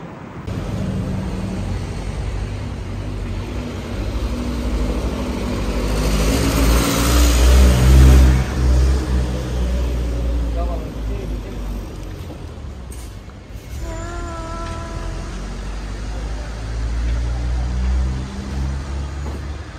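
A car drives to a new home, its engine and road rumble steady and fairly loud throughout, swelling midway as it speeds up, with a brief high chirp and faint tones near the end.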